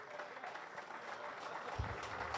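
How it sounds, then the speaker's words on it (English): Applause from a prison service honors ceremony audience, a steady wash of clapping throughout, moderately faint, with a low thump near the end. "Give him a round of applause again."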